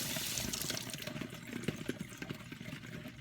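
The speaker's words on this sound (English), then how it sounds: "I'm going to go ahead and give it another rinse." Tap water runs steadily as prickly pear fruit (tunas) is rinsed under it to slough off spines, a continuous splashing wash at close range with no voices.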